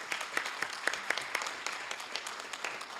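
A round of applause at a city council meeting in Hayward: a modest crowd claps steadily for about three seconds, with dense rapid hand claps at moderate distance and no talk over it.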